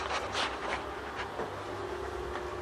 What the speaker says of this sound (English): excuse the noise of the fan